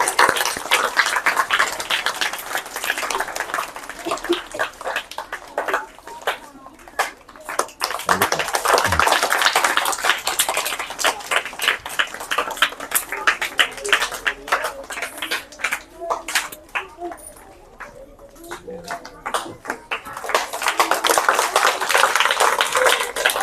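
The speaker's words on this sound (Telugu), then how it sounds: "క్లాప్." People clap by hand at a small semi-Christmas celebration, in scattered bursts of sharp claps that swell and fade over the stretch. Voices talk in between and underneath.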